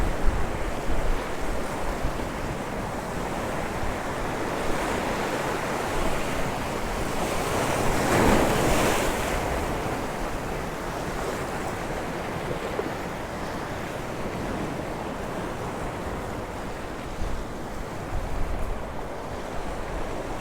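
Wind-driven surf rolling onto the beach at Santa Ponsa, Mallorca, a steady close wash of breaking waves with gusty wind noise buffeting the microphone and a brief louder surge midway.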